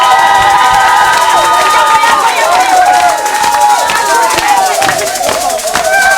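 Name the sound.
congregation clapping and cheering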